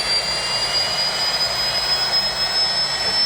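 Loud, steady roar of a jet engine with a high whine running throughout, constant and close, no voices.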